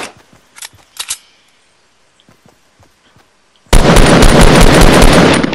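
Gunfire in the Fortnite battle royale game: several scattered sharp shots over the first seconds, then a loud, dense burst of rapid firing that runs to the end with no voices.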